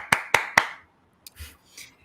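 Three sharp, close hand claps in quick even succession, then near silence with a faint brief knock and soft rustle, during a conversation marking a three-year marriage milestone.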